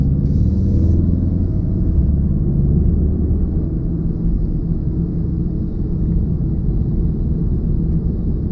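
A Volkswagen MK7 Golf R drives along, its engine and exhaust a loud, steady low rumble heard from inside the car throughout, with no talking.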